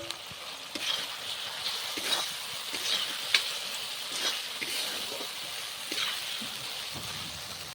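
Chicken pakoras sizzle in a pan of spiced masala, a steady frying hiss broken by repeated scraping stirs and light clinks, moderately close, with no talking.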